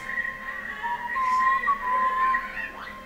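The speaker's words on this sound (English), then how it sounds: "Whistling probably sounds really bad over the microphone." A person whistles a short wavering tune, clear and close, with pitch sliding up and down over a few seconds and a soft background hum beneath.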